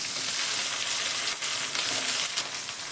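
Onion, tomato and capsicum fry in a pan, giving a soft, even sizzle throughout with a few faint stirring touches, quiet and without speech.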